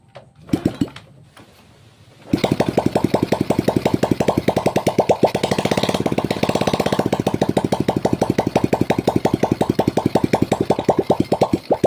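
Suzuki Suprax 125 motorcycle engine with a compression loss fault, running with no exhaust fitted, starting after a few weak cranking sputters, then a loud, rapid, raw popping idle close up that holds steady to the end.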